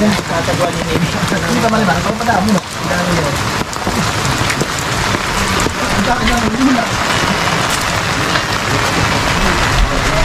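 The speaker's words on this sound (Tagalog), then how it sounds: "Bagay, talagang naulan." Heavy rain pours down outdoors near a fishpond, a loud, dense hiss of drops hitting surfaces, while people talk in the clip under and over the downpour.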